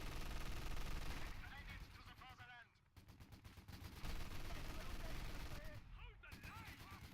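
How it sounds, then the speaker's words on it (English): Sustained MG42 machine gun fire in a Battle for Caen World War II battle game, steady rapid rattling with other guns and battle noise layered over it, pausing briefly twice, with voices heard in the mix. "it's a machine gun war in the center"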